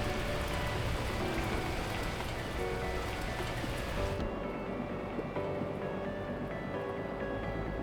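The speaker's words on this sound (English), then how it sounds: "At that moment, the heavens opened up, unleashing torrential rain." Torrential rain in the video game Beacon Pines: a dense, steady roar of heavy downpour, loud and continuous, with the hiss thinning slightly partway through but the rain persisting without talk.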